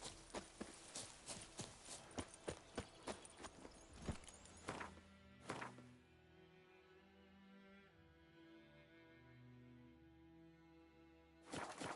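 Hoofbeats of Roach the horse in The Witcher 3 ring out in a quick, steady galloping rhythm for about four seconds, then fade into a calmer stretch of ambient game sound with soft tonal music, before a final burst of hooves.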